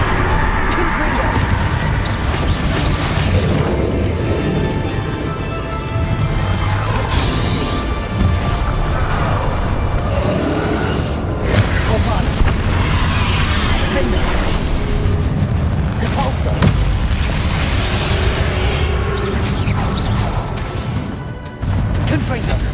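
Confringo spells in Hogwarts Legacy set off repeated explosive crashes and booms in a continuous, loud game battle, with blasts and whacks packed densely together throughout.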